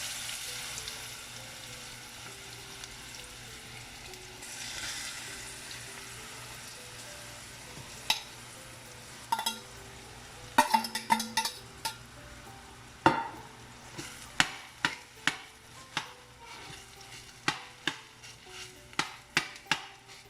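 Grated apple sautéing in a pan with asafoetida, spicy red chili and salt, a soft steady sizzle under a low background hum, punctuated later by a series of sharp clinks and scrapes from stirring.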